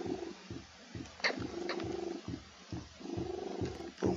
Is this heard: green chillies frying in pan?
no